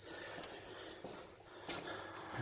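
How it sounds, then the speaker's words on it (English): Black field crickets kept as live reptile food chirp in short, regular high-pitched pulses, repeated evenly and fairly close over a quiet background. "So these are black field crickets."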